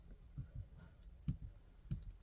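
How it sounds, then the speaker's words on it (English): Small plastic keys on a compact keyboard accessory for handheld gaming PCs are pressed in a few soft, separate clicks, quiet and close, with gaps between presses as the backlight button and arrow keys are used. "if I press the light button here and then I hit the arrows"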